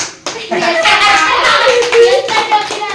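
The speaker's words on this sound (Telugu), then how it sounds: "గట్టే చప్పట్లు కొట్టండి. Correct answer." A crowd of children claps together at a quiz game show after a correct answer, steady applause filling most of the stretch with a voice rising over it.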